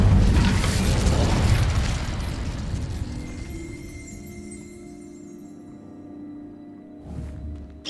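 Incendio fire spell cast in the Hogwarts Legacy video game, a loud whooshing burst that opens the clip and decays into a lingering crackling hum, with a smaller thump near the end.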